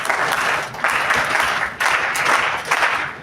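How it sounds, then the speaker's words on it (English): Audience members at a personality development and life skills training session clap together in loud bursts that swell and break off at regular intervals, with no talk over them. "we'll go for a rhythmic clapping"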